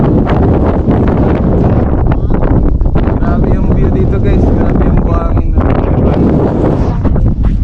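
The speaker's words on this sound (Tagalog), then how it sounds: "Sobrang lakas ng hangin." Strong wind on the Paoay Sand Dunes in Ilocos Norte buffets the microphone in a constant loud roar, while a person talks over it throughout.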